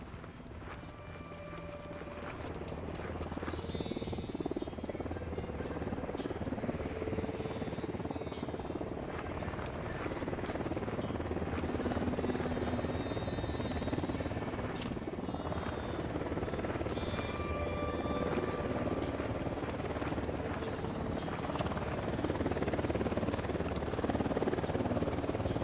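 A helicopter approaching in the Ghost Recon shooter, its steady rotor thump growing louder and holding as a continuous chop beneath faint background game sounds.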